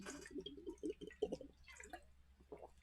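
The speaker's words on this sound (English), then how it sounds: "Also a little sip of water." Small sips of water drawn from a water bottle, a run of soft, close wet slurps and gulps with short gaps between them, quiet and with no voice over them.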